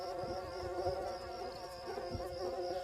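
A swarm of mosquitoes buzzes in a continuous high, whining drone, close and steady, with slight wavering in pitch as the insects move.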